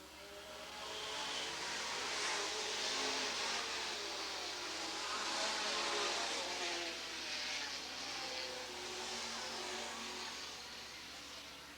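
Race cars pull away at the start at Eugene Speedway in 1989, engines swelling into a broad, distant roar that rises, holds and slowly eases off.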